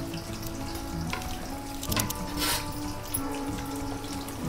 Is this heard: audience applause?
no